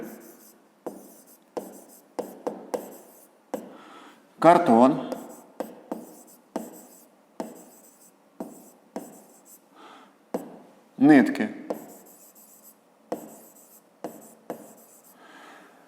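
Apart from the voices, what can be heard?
writing in a notebook with a pen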